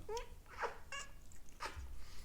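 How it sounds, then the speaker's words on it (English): Pet cat named Lucky, heard close up making a few short, faint meows and chirps in quick succession in a quiet room. "let me say hi to my Kombat cat"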